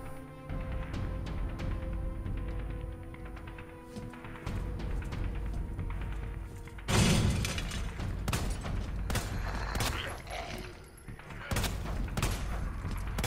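Gunfire in the video game Resident Evil 2, scattered sharp shots and bursts spread through the clip, with a louder crashing burst near the middle, layered over game ambience and intermittent talking.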